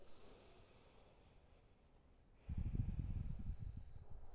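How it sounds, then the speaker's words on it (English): Deep breathing during a gentle yoga session, with soft low airflow building into louder, close breaths in the second half and no talk. "Take a couple deep breaths here."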